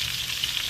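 Steak sizzles in a pan on a home stove with melting butter and spices over a flame, giving a brief, steady, close hiss with no voices.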